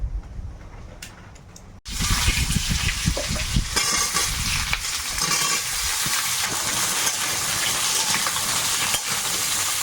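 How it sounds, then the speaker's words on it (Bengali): Whole spices (nutmeg, mace, cinnamon, cloves and cardamom) hit hot oil in a wok for chicken biryani, bursting into a loud, steady close sizzle with light stirring after a quieter start, no talk. "জায়ফল জৈত্রী দারচিনি লবঙ্গ ইলাচ কড়াইতে এখন তেল দেবো"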